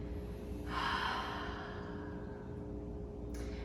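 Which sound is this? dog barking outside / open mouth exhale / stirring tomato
open mouth exhale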